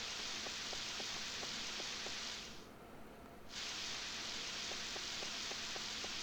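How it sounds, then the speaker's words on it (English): Steady synthetic rain hiss in the Nintendo 64 farming game Harvest Moon 64, loud and even, briefly thinning midway, with faint repeating ticks underneath. "I really like watching the rain in this game. I think it's just fun and I love the sound."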